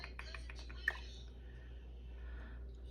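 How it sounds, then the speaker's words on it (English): Long fingernails tap and click on a computer keyboard in a quick burst of typing, then one sharp click, then faint quiet with a low steady hum underneath. "I cannot even type today. It's these nails, I'm telling you."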